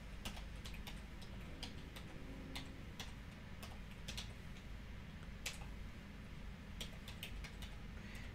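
Keys tap in short irregular bursts on a computer keyboard while signing in, quiet and close, with no talking.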